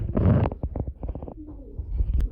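Pigeons coo in low, throaty bursts at a pigeon market, a sequence of close, rhythmic pulses followed by softer murmuring.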